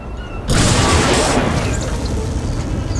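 Spacecraft engine trouble in the video game SWTOR: a sudden loud blast after a quiet half-second, followed by a sustained rumbling roar of explosions with faint crackles through to the end.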